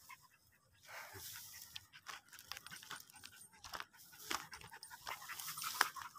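A small dog pants rapidly and close by outdoors on a hillside in Alicia, Bohol, with quick breathy puffs and faint whimpers rising in loudness toward the end.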